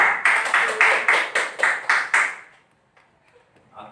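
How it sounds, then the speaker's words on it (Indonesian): Classroom group clapping for group 2: about nine brisk, evenly spaced claps in roughly two seconds, loud and close, then stopping and leaving faint room noise. "kita beri tepuk tangan untuk kelompok 2"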